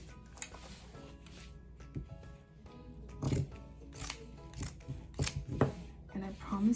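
Fabric samples being cut for quilted coasters, giving a series of crisp, irregular snips and crunchy cuts that grow louder and closer toward the end, over faint background noise.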